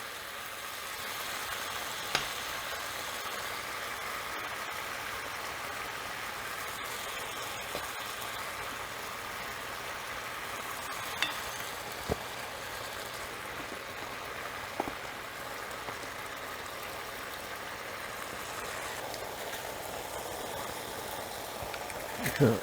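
Beef fries in a crowded pan with a steady, dense sizzle and hiss throughout, close and even, broken only by a few faint clicks and knocks.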